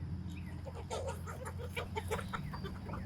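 Several chickens cluck close by while being wrangled into a pen, a steady stream of short overlapping clucks over a constant low background hum, with no talking.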